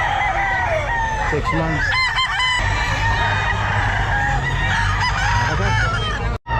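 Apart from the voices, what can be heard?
Sweater gamefowl roosters crowing at Grotto pet market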